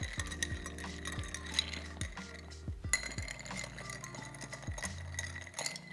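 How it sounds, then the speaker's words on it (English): Ice clinks and rattles as a bar spoon stirs a Negroni Bianco cocktail in a glass, a close, rhythmic series of light chinks over a few seconds. "Now I'm going to go ahead and give these a nice little stir."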